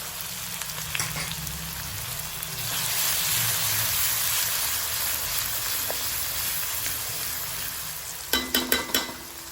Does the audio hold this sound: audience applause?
no